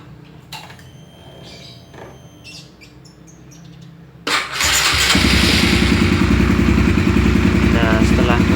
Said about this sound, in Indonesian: Jadi pertama kita nyalain dulu mesinnya.